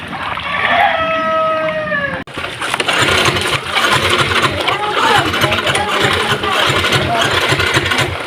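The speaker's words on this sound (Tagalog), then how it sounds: "Ayaw na mabuhay ng motor natin." A small motorcycle engine cranks and sputters repeatedly without catching in a flooded area after rain, a loud rough mechanical churning close by.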